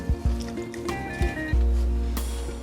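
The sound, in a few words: wet corn husks lifted from water and shaken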